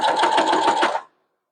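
A sewing machine stitches around the edge of a fabric coaster in a quick, even, rattling burst lasting about a second, then stops abruptly into silence.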